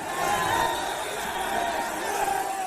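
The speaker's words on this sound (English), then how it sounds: "Australia's qualifying for the knockout stages led to huge crowds celebrating at 4 a.m. in Melbourne" A huge crowd celebrating at 4 a.m. in Melbourne after Australia qualified for the World Cup knockout stages, a dense, continuous roar of cheering and shouting voices, loud and steady throughout.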